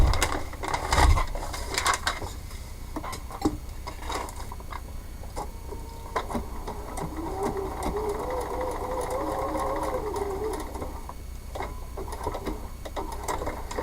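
A sewing machine stitches a foundation paper pieced pumpkin in a steady whirring run, close and moderately loud, after some handling knocks and clunks at the start.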